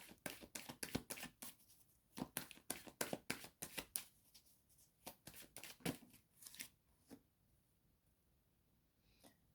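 Oracle cards shuffled by hand for a reading, a quick run of crisp riffling snaps and slides close up, pausing briefly midway and trailing off into a few softer taps, with no talking.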